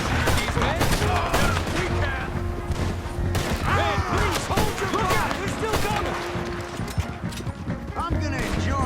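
Rapid, dense gunfire crackles in the Western video game Red Dead Redemption 2, many overlapping shots in a sustained firefight, loud and close, with character voices shouting amid the volleys.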